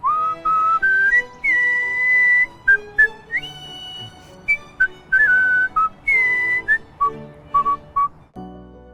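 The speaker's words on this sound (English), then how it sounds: "Mine happens to be whistling." A man whistles a melodic tune alone, clear sustained notes and quick phrases rising and falling with short gaps between them, close and bright.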